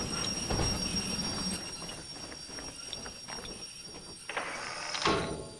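Steam locomotive in the Derail Valley train game with its independent brakes applied, giving a steady rumble of rolling wheels and clanking, a squeal of brake or wheel, and a sharper hiss near the end.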